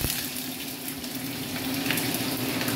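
Onions frying in a pan for tori katsu prep give off a steady, close, broadband sizzle that holds even throughout, with no talking over it.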